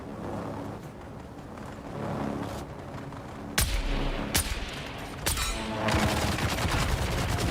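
Gunfire crackles in the video game Dune Awakening: a low battle rumble runs under several sharp, loud shot bursts, with rapid firing toward the end.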